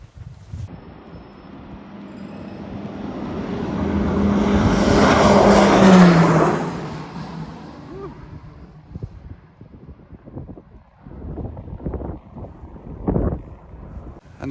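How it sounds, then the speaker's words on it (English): Summit Air Let 410 turboprop taking off at Lukla airport, its engine roar swelling to a loud peak and then fading into the distance, with wind buffeting the microphone throughout and clattering bumps near the end. "Let's watch the Let 410 take off of Summit Air."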